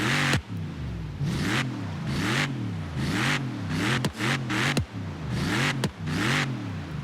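Ford Raptor with a 3.5 litre EcoBoost V6 in Forza Horizon 3, revved repeatedly on a beach, loud close engine swelling and falling in rhythmic rev blips with brief dips between each, no talking.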